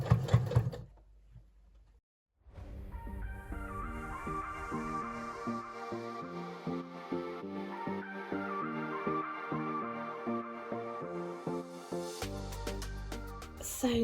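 A sewing machine stitches fabric for a hanging pod, running in a steady rapid mechanical rhythm for several seconds after a brief pause, ending in a few louder clunks, with no voices.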